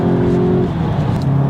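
Volkswagen Golf GTI engine heard from the cabin, a steady droning hum at moderate revs that drops in pitch as the throttle eases, loud and continuous with no talking.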